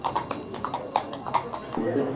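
Horse hooves clip-clopping at the Golegã horse fair in Portugal, a steady run of sharp taps close by amid crowd chatter and people talking.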